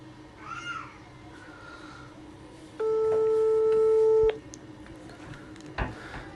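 A telephone line rings on a redialed prank call, one long steady electronic tone sounding clearly for about a second and a half against a quiet room with faint background noises.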